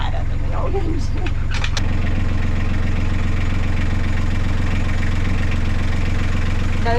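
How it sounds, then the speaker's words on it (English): A new Yanmar inboard boat engine runs steadily on its first test run, a close, loud low rumbling idle with a rhythmic knock that holds constant after a brief shift, with a person speaking briefly early on. "Engine seems to be running nicely."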